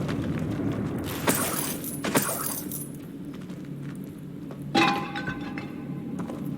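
Spell effects from Hogwarts Legacy, including the Confringo blast, come through as three short, bright crackling bursts with glassy, shattering edges, each one fairly loud and separated by a second or two of low ambient hum.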